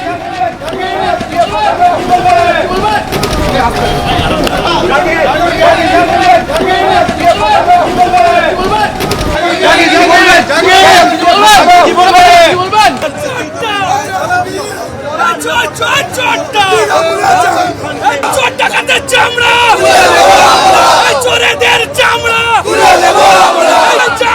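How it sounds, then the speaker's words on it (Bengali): A large crowd outside a Kolkata court chants "chor chor" at an arrested Trinamool councillor, a loud rhythmic chant under shouting and general hubbub that goes on throughout. "জাহাঙ্গীরের উদ্দেশ্যে আজ চোর চোর স্লোগান ওঠে"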